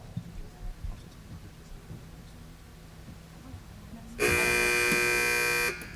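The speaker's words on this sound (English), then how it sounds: "teams wait for the buzzer" A loud, harsh electronic quiz buzzer blares steadily for about a second and a half after a stretch of quiet room noise at a school quiz competition.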